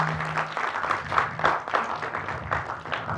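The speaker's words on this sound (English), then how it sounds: "this deserves a round of applause from everyone" Audience applause at a conference at IIT Delhi, a steady wash of many hands clapping at moderate distance, continuous for a few seconds with little talk over it.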